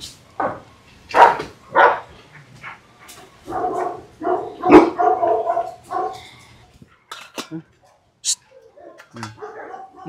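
A dog barks in short, irregular bursts close by, mixing sharp yaps with grumbling and whiny vocal noises, with brief quiet gaps between.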